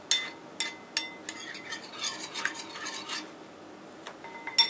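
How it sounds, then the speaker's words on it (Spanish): A spoon or spatula works powdered sugar into homemade fondant in a bowl, giving close, repeated scraping and soft clinking strokes in an uneven rhythm, with no talking. "Agregamos poco a poco el azúcar en polvo y se va mezclando bien entre cada adición"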